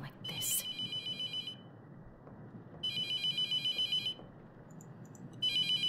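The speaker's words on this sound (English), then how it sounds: "Let's pick up the phone." A phone rings in The Mortuary Assistant horror game, three bursts of electronic trilling with short pauses between them, clear and fairly close over a low ambient rumble.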